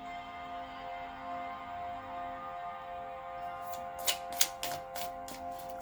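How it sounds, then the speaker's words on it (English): Tarot cards are drawn and handled, giving a brief cluster of soft, crisp snaps and shuffles near the end over a quiet room hum. "let's pull some tarot cards and see what else we can add to this"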